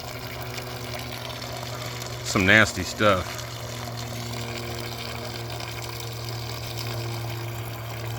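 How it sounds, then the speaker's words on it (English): Water runs steadily over Lincoln SA250 welder engine parts, flushing out Evapo-Rust in a constant hiss with a low pump-like hum, while someone speaks briefly midway. "So I drained out the evaporust and now I'm trying to flush with water."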